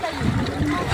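Water splashes continuously as people bathe in clear water at Barkong Bato, San Narciso, Quezon, a broad close wash of sound with voices mixed in.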